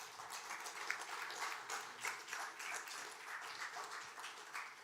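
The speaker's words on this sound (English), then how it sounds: "Let's give them a huge round of applause," Scattered applause from an audience at a launch event, a faint, uneven patter of clapping that swells and dips over a few seconds without any talking.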